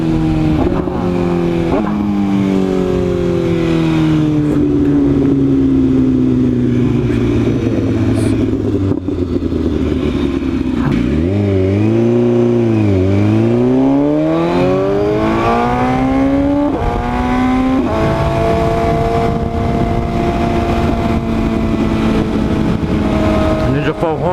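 A loud Maserati engine revs hard and accelerates while racing an Audi RS3 and a Corvette, its pitch climbing through several gears, then dropping and sweeping back up in a long continuous run, heard close from inside the car.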